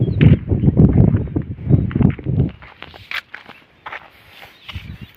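Bullocks walk on a farm, heavy footsteps thudding close and loud in a steady rhythm for the first half, then fading into lighter scattered rustles and a few clicks before another couple of steps.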